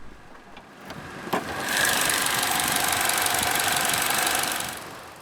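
A 2010 Peugeot 308 VTi's naturally aspirated 1.6-litre DOHC 16-valve inline-four with variable valve timing clicks, fires up and settles into a close, steady running hum with a slight knocking texture.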